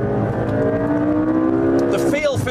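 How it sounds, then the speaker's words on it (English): A 2014 McLaren MP4-12C Spider's twin-turbo V8 sustains a steady, loud engine drone at high speed, with a smooth held tone that rises slightly before a brief shift near the end. "Twin turbo, V8, and okay, I'm only up to 137 there, but it'll top out at 204 miles an hour"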